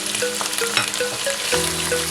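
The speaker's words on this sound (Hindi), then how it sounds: "इसको अच्छे से भून देंगे।" Fatty beef pieces frying in a pan for shaljam gosht, a dense, steady close sizzle with stirring scrapes, no one speaking, faint tonal background music underneath.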